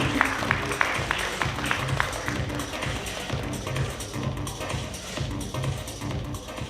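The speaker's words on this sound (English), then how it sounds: "Please give them a big round of applause, please." Audience applause at a seminar on building facades and carbon neutrality, a steady patter of many hands clapping at moderate loudness, with some sharper individual claps early on.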